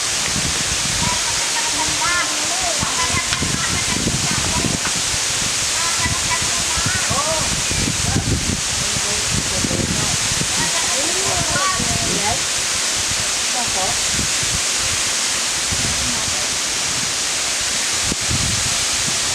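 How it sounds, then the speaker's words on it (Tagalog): Steady roar of the Gallego Waterfalls in Goa, Camarines Sur, a broad rushing wash of falling water that fills the whole clip at close range, with a few faint voices mixed into the background. "Virgin Waterfalls. Hatod Waterfalls."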